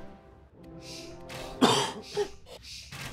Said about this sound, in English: Sorry for coughing, guys.